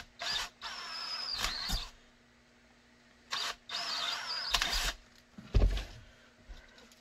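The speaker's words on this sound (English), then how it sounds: "So we'll take those two and drill those two." A power drill bores holes in a Canik TP9 SFx holster, two separate whining runs of a few seconds each with pauses between and a clunk of handling at the end.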